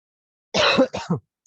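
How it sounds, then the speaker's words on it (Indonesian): A single close throat-clearing cough from a person with a cold, a short rough burst followed by a second quick one, then silence. "saya agak batuk-batuk oleh ya dingin"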